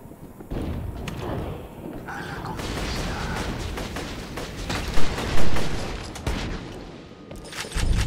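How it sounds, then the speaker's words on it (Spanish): Exploding machine gun in Borderlands 2, firing in rapid bursts of crackling shots mixed with thumping blasts and a couple of louder booms, while someone talks over the gunfire. "Es metralleta que explota"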